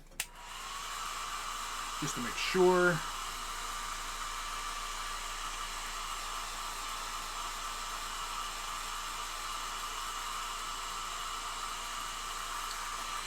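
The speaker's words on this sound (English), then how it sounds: "I'm going to use the hair dryer" A hair dryer blows with a steady, loud whoosh that runs nonstop, interrupted early by a few brief clicks and a short spoken phrase.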